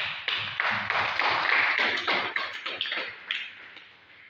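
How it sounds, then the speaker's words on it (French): An audience applauds during a hotel project presentation in Kribi: close, dense clapping swells and then thins over a few seconds, with no talking. "Vous pouvez applaudir."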